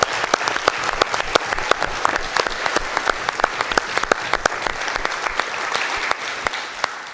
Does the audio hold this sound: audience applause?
yes